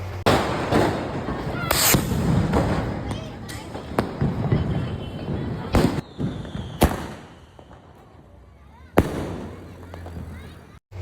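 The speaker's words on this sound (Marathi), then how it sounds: "चला आता फटाके बिटाके फोडून झाले" Repeated sharp cracks and bangs of Diwali firecrackers, some near and loud, others farther off, scattered irregularly amid people talking.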